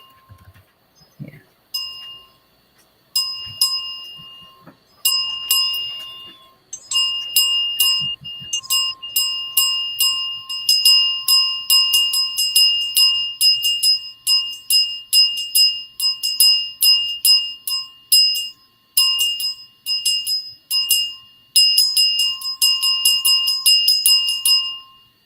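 A small bell is rung over and over, bright clear strikes that come in quick bursts and short pauses with a clean decay, loud and close with no talk.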